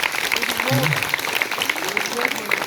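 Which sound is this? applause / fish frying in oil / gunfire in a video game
applause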